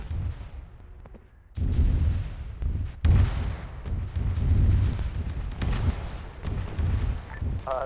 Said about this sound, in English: we just heard a huge explosion to the north.